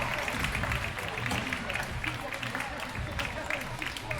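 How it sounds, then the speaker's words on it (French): Applause and crowd noise for a rider at an amateur scooter freestyle final, a steady dense wash of clapping and cheering filling the whole stretch, with voices mixed in. "Applaudissements pour Romain Daguzan"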